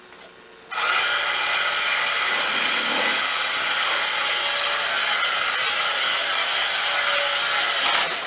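An electric hand mixer blends cheesecake batter in a home kitchen, starting after a brief quiet moment and then running as a steady, loud, even whir close to the microphone for several seconds, with no talking.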